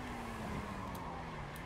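Motorbike engine from a transforming-vehicle video game race, a steady continuous drone held at an even level with a faint whine running throughout, no speech.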